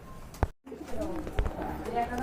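A pair of Shoking breed pigeons coo softly at close range, a few low throaty calls spaced across the moment with faint rustling between them.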